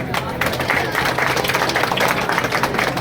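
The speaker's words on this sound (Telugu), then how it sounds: "చప్పట్లు." Applause at a prize-giving ceremony, a dense continuous patter of many hands clapping with a murmur of voices mixed in.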